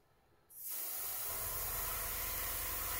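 A dark blue spray paint coat is applied to a handmade bottom jerkbait lure. After a short quiet moment, a sudden loud, steady aerosol hiss begins and carries on without a break.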